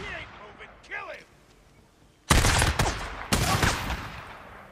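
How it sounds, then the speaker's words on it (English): Enemy gunfire in the video game Days Gone, with two loud broadband bursts of rapid shots starting midway. Quieter game sounds precede them. "that guy's shooting in the back"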